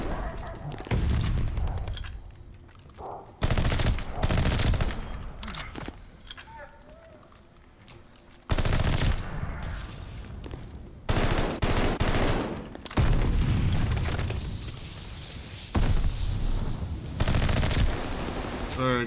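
Automatic weapon fire in Call of Duty Vanguard multiplayer, with loud bursts of rapid shots repeating in several clusters between quieter gaps and footsteps.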